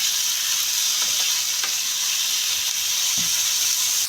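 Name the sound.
sautéing onion, capsicum and tomato in a pan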